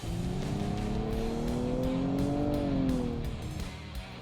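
Launch from a standstill in a 2022 Kia Stinger or Nissan Maxima: a loud, steady engine drone rising in pitch as the car accelerates hard, then easing off near the end, with no talk.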